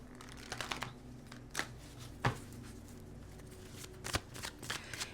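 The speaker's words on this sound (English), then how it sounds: "One more shuffle." Tarot cards shuffled by hand in irregular bursts of riffling and flicking, close and fairly quiet, with sharper snaps around the second and fourth seconds and no talk.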